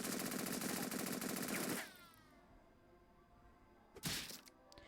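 Rapid rifle gunfire in a Henry Stickmin video game: a dense, sustained burst that cuts off abruptly, then after a pause a second short sharp volley of cracks.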